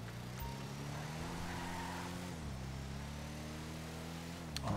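Mammoth Patriot Mil-Spec, an armored SUV in GTA Online, driving: a steady, low engine drone with gentle shifts in pitch, fairly quiet and unbroken, with no talk.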